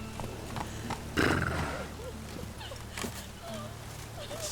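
Roach, a horse in The Witcher 3, gallops with rhythmic hoofbeats, a brief snort or whinny, and some game voices in the background.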